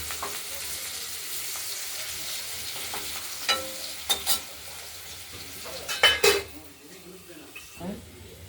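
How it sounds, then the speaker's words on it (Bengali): Quiet kitchen sizzle of large potato chunks frying in a pan, with a few sharp clinks and scrapes of a utensil stirring against the pan. "বড় বড় দিয়েছি তো আলু, ভাজা না করলে নরম হবে না"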